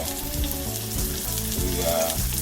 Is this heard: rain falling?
no